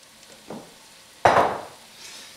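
Colorful cabbage mixture hitting a hot pan for a cabbage pie, a short soft sizzle followed by a louder burst of frying that fades over about a second.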